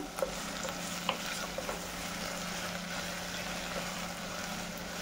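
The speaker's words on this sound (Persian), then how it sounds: "من این گوشتا رو با پیاز تفت میدم" Meat and onions sauté in a pan with a steady, continuous sizzle and a few faint stirring clicks near the start, with no voices.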